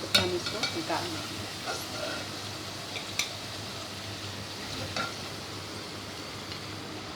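Potatoes frying in hot oil until golden for spicy chicken dum aloo, a soft steady sizzle with occasional stirring clicks.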